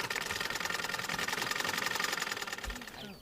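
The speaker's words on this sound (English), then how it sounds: "he then started operating his sewing machine much faster" Sewing machine running fast, a steady rapid mechanical chatter that fills the clip before slowing and fading near the end, with talk underneath.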